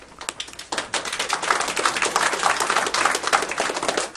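Applause ripples through the audience at a city council meeting, a steady patter of many hands clapping that builds and holds for several seconds without any voices.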